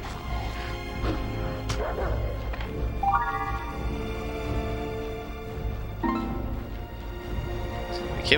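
Dogs bark in repeated yips and whimpers during a fight in The Lord of the Rings: Aragorn's Quest on PS2, a few sharp barks standing out over a steady music and effects bed.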